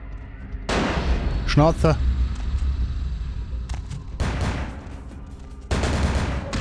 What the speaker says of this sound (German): Der hat auf mich geschossen